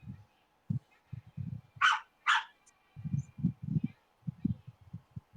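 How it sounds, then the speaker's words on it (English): A neighbour's small yappy dog gives two sharp barks in the background, faint and brief, while people talk nearby. "No, it's a new dog from the next door neighbor."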